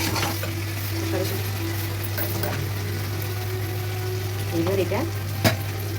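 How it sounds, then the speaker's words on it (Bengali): Fresh green peas, cashews and raisins sautéing in a pan for vegetarian khichuri, a steady close sizzle with occasional stirring scrapes, and a voice speaking briefly over it. "মটরশুঁটি দিচ্ছি, কাঁচা মটরশুঁটি, কাজু কিশমিশ মটরশুঁটি। হ্যাঁ, এবার এটা আস্তে আস্তে কষাবো,"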